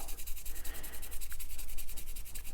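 A stiff brush scrubs grime off the wooden part of a vintage tool, giving a steady close rhythmic scratching with quick back-and-forth strokes for a couple of seconds, with no voices.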